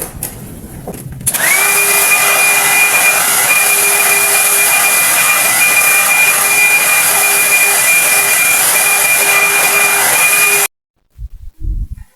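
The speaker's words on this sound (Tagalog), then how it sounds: "So, nag-blower tayo ng buhok." A hair dryer switches on with a sharp whir and blows at a loud, steady pitch for about nine seconds, then cuts off abruptly, leaving brief faint noises.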